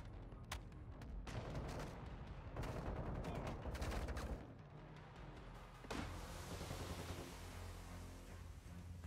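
Gunfire in the video game Modern Warfare 2 Domination match: rapid bursts of automatic fire and booms through the first half, then a sharp blast and continued shooting, fairly faint overall.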